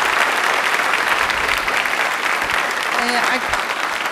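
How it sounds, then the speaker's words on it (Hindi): Audience applause at a Hindi-language quiz event on DD Rajasthan, steady and fairly loud clapping for the whole stretch, with a brief voice sounding near the end. "तालियां प्लीज़ एक बार जोरदार के लिए हो जाए"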